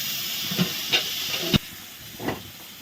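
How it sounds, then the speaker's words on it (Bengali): Hot water poured into a pan of frying soybean and poppy-seed curry gives a steady steamy hiss, with a few short bursts of sizzle and a sharp spike as the water hits the hot pan. "ফুলও কষিয়ে গেছে কষে গেছে এখন একটু গরম জল দিয়ে দিলাম"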